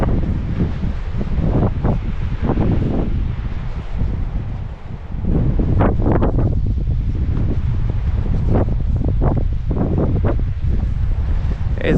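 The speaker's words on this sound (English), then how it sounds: "It is a little windy" Steady wind buffets the microphone outdoors on the coastal path from Fowey to Par, a continuous rushing roar with gusts swelling and easing, no voices present.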